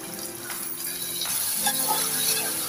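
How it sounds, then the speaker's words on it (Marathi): Chana dal sizzles and crackles in hot oil while being stirred in a pan, with a steady frying hiss and occasional scraping throughout. "डाळ आपली तेलावरती 1-2 मिनिटभर चांगली परतून घेऊया"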